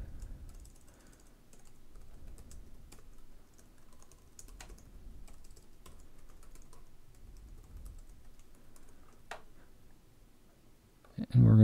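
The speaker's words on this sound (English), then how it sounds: "We're going to type in our podcast feed." Typing on a computer keyboard while entering a podcast feed address, a steady run of soft, close key clicks at low level, ending in a louder thump.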